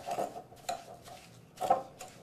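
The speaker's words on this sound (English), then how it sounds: "So I just whisk these together till they're smooth." A whisk beats melted butter and sugar together in a bowl for squash bread batter, giving a few quick, close scraping strokes with short pauses between them and no talking.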